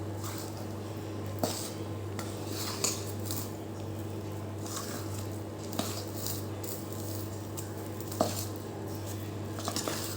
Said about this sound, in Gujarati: આ મિક્સ કરીશું એને હલાવી લઈશું